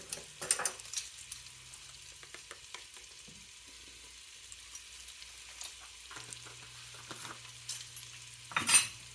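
Garlic and crushed red pepper sizzle in a pot for a blue crab bisque, a soft steady frying hiss under a few sharp utensil clinks near the start and a louder scrape at the end.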